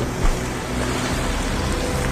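Humpback whales weighing about 40 tonnes breach out of the open ocean and crash back in, giving a steady rushing wash of water and surf with a brief heavier splash near the start.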